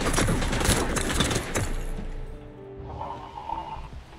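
Rapid gunfire shoots at the player in the video game Vampire: The Masquerade Bloodhunt, a dense burst of loud shots for about a second and a half, then fading into quieter game ambience with a faint tone.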